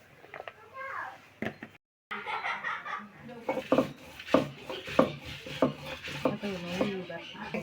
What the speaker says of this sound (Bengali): আদা বাটা করে দেব।